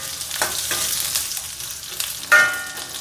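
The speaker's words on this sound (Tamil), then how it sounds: "இப்போ பாருங்கள், நல்லா வெங்காயம் கத்திரிக்காய் நல்லா வதங்கிடுது." Onion and eggplant fry in a hot pan, a steady close sizzle broken by a few scraping stirs, with a louder burst of crackling near the end.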